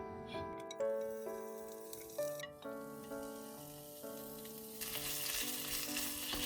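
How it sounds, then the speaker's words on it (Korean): Bracken fern namul being stir-fried in an oiled frying pan gives a soft sizzle that swells in the last seconds beneath light plinking melodic music notes. "이제 후라이팬에 볶으면 돼"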